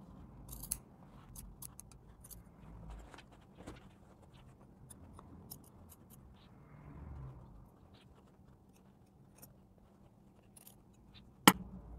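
Scissors snip through fabric seam allowance while a binder cover is being made, giving soft scattered crisp cuts close by in a quiet room with low handling noise and one sharper clack near the end.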